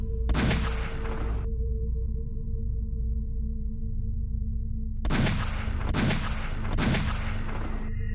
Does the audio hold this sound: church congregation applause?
no